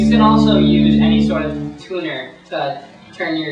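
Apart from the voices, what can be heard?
None of the usual background noises is heard.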